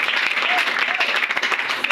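A church congregation claps for the Lord during a worship service, dense continuous applause filling the room with rapid overlapping hand claps at steady volume throughout.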